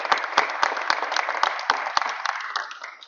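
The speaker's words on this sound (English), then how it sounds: "Give him a round of applause." Audience applauding for a city council president at a mayor's public announcement event, steady broadband clapping with sharp individual claps standing out, fading slightly toward the end.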